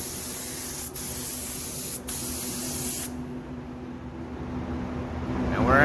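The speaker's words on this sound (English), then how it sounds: "We're going to do our first coat of clear." HVLP spray gun laying a first coat of clear on a Ford SVT door jamb, a steady close hiss running throughout, broken by two brief trigger pauses early on.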